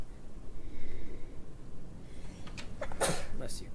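A single sharp, close sneeze bursts out near the end, following a few seconds of low background noise and breathing.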